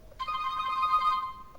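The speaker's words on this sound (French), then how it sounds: "Sonnerie du téléphone, c'est ça" A short electronic ringtone from a HOMTOM HT7 PRO smartphone, one sustained bright melodic tone lasting about a second, close and clear with nothing else around it.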